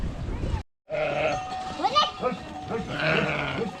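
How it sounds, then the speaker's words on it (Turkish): Sheep and goats bleat repeatedly, with a faint clink of bells, as a flock comes down from the mountain at a village; people talk in Turkish over the animals. "Koyunlar da dağdan gelmeye başladı."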